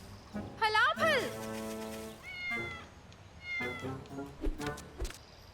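A cartoon cat gives several rising, wavering meows, loud and close, some drawn out into a caterwaul, with background voices and noise between them.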